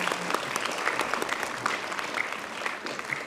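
Steady applause from an audience greets a primary school team at a mental maths competition, many hands clapping evenly for a few seconds with no voices.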